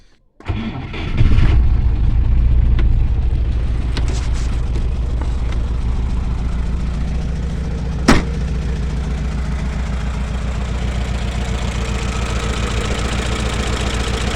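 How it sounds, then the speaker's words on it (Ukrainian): An old vehicle engine with aging spark plug wires cranks and catches, then settles into a loud, steady idle with a rough, knocking pulse and one sharp click partway through. No one speaks. "мотор працює, але ну, свічки треба дивитись, бронепровода ще стоять."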